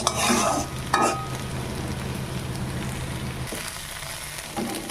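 Okra and egg frying in a pan while a utensil stirs them, with a couple of scraping strokes early on over a continuous close sizzle that carries on alone.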